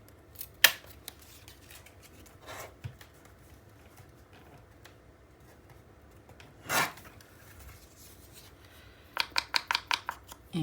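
Scissors trim paper for a 9 x 9 mini album page in short crisp snips, a few isolated cuts early, then a quick rhythmic run of five or six close snips near the end, with quiet handling between.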